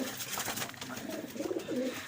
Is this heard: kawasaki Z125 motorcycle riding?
no